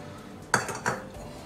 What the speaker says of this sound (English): And again, give it a whisk.